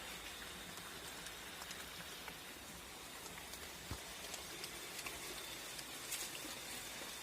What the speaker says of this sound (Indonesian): Ini sedang hujan lebat pemirsa ya.